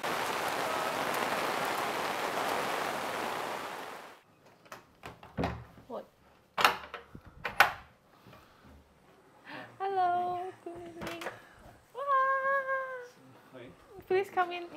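Steady rain patters and hisses for about four seconds at a resort in Nepal, then stops; afterward come clicks, a door-like thud, and several cat meows.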